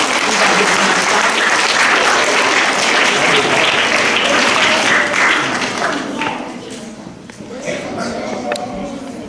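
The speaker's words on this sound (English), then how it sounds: "Can we have a round of applause for Ivan?" A school celebration assembly audience gives a loud, dense round of applause that fills the hall, then gradually thins out into scattered claps.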